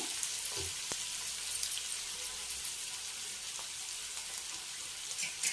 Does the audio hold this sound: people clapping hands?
no